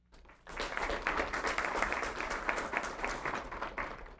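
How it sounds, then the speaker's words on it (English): Audience applause at a city council meeting: steady, dense clapping from a sizable crowd that starts abruptly and keeps going at an even level, with no talking over it. "Please give them a round of applause."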